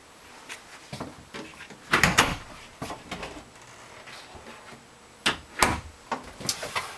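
A linen closet door in a 2016 Winnebago Minnie 2401RG RV opens with a few light wooden clicks and knocks, brief handling sounds spread over several seconds in a quiet interior.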